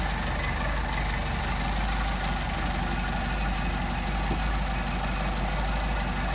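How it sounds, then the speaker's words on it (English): A Mercedes 190SL engine idles steadily with Solex carburetors while the idle is adjusted upward, a constant close mechanical drone with even low rumble and no voices. "you'll be able to hear me raising the idle right here. Hear it change?"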